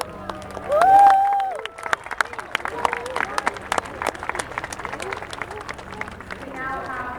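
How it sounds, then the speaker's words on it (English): A crowd at the Farnborough Airshow public day breaks into scattered applause, a patter of claps and cheers with people talking over it. "Please give a massive round of applause."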